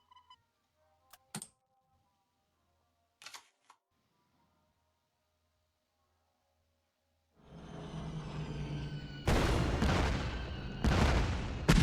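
Heavy gunfire and explosions from the WW2 card game KARDS, starting after several brief sharp clicks and growing into a dense, loud, continuous barrage that swells toward the end.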